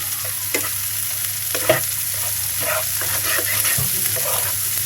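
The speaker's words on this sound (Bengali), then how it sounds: "আমার ভাজিটাও হচ্ছে পেঁয়াজ ভাজিটাও হচ্ছে" Sliced onions frying in a pan, a continuous sizzle with scattered scraping stirs and utensil knocks, close and fairly loud, with no talking.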